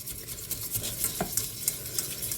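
Cooked carrots whisked in a pot: a steady run of close, scraping and swishing strokes against the metal, with soft splashes and no voices.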